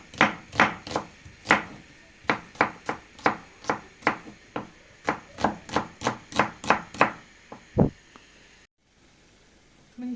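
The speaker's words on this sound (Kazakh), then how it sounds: "Енді пиязымызды турап, жаңағы етімізге қосып қуыратын боламыз." Onions being chopped with a knife on a board while making a meat pie, a steady run of about twenty crisp, close knocks at an even rhythm, then a brief pause at the end.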